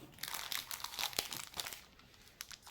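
Bubble-lined padded envelope crinkling and crunching as it is handled during an unboxing, a run of close, quiet irregular rustles with a few sharper crackles and no talking.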